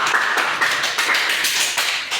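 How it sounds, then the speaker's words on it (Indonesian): A class of students claps together in a classroom, a dense, steady patter of hand claps with slight pulses, close and fairly loud, without any voices over it. "Tepuk tangan dulu buat kalian."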